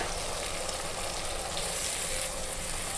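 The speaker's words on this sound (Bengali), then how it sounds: "এই মশলাটা আমি এখন কষাচ্ছি" Spice paste for khichuri and chicken sautéing in a pan, a dense, even, close sizzle that holds steady for the full few seconds.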